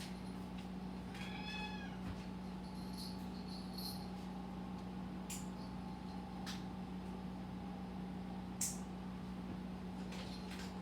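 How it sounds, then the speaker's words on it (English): A domestic cat indoors gives a few faint, short meows early on, over a quiet steady room hum, followed by scattered light clicks. "my cat wants to go out"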